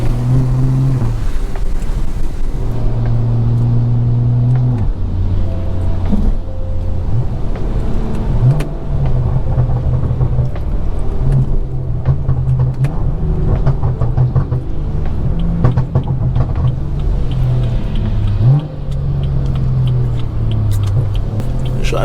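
Straight-piped BMW 340i xDrive driven hard, its loud droning exhaust holding steady, rising and falling through gears across the whole stretch, with brief dips between shifts.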